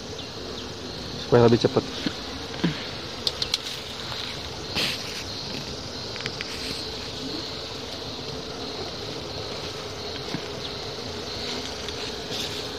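Honey bees from a wild colony buzz faintly around a nest being coaxed into a hive box outdoors, a thin steady drone under a few sharp knocks and a brief spoken line.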